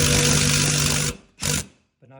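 An impact driver tightens a bolt on a large TV wall mount: one loud rapid burst of about a second, then a short second burst after a pause, with a faint voice at the end.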